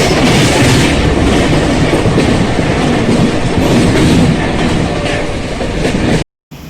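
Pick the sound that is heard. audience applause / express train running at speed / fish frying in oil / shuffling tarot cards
express train running at speed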